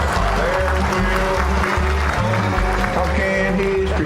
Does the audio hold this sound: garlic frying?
no